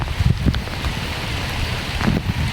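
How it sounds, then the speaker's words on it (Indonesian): Rain falling outdoors in a rural village near a simple stilt house, a steady rushing hiss mixed with wind buffeting the microphone, with a few louder gusts. "Hujan."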